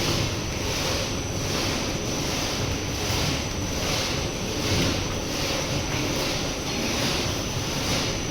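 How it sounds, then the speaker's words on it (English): Three liters of water poured into a plastic crate of waste, a steady loud rushing splash that runs continuously without pause and with no talking. "Now we are going to add 3 liters of water."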